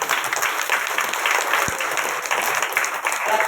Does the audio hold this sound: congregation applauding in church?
yes